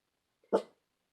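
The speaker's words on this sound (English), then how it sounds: "you probably hear my dog barking" A single dog bark, short and sharp, rises out of silence at moderate volume with a faint lead-in sound just before it.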